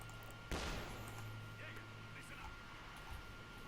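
Battlefield gunfire and artillery from the World War II strategy game Company of Heroes 2, with one sharp loud blast followed by a rumbling, distant din of shots, heard under a commentator's talk.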